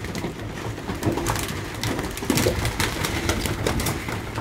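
Young pigeons coo softly during training, with soft rustling and shuffling in a loft and no talking.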